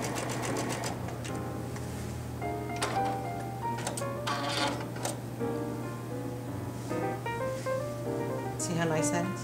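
Brother sewing machine stitching with an SA158 seven-hole cording foot, a steady close-up mechanical whir running throughout with faint clicks, while a person talks over it.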